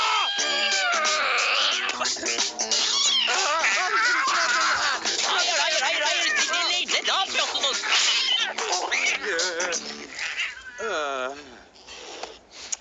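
A cat meows repeatedly in drawn-out, wavering cries, loud and close, with voices talking over much of it.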